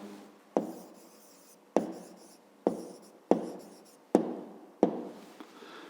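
Numbers are written by hand with a pen on paper in a quiet room, six short scratchy strokes at uneven intervals, each fading quickly, close and soft with no voices.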